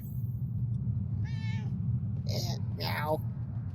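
A cat in the video game Murdered: Soul Suspect meows, a short mew followed by a louder drawn-out cry, over a steady low rumble with a voice talking nearby.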